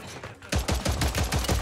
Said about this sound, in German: Ich habe die ersten Schüsse alle nicht getroffen